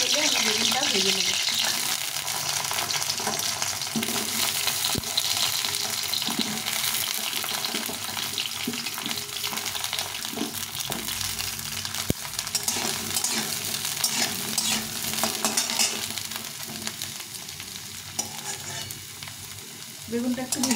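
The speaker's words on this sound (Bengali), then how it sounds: "এই তেলে আমি বেগুনটা ভেজে নেব।" Eggplant fries in hot oil after potatoes, giving a steady crackling sizzle punctuated by stirring and some running water, with soft talk now and then underneath.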